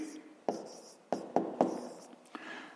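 A pen writes a fraction by hand on paper for a fifth-grade maths exercise, making a few short, quiet, close scratchy strokes separated by brief pauses, with no speech.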